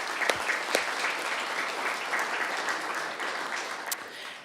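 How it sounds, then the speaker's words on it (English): Applause from the audience at a city council meeting in Flagstaff, a dense, steady clapping that holds evenly throughout without any talk. "if I could just get a round of applause for those individuals"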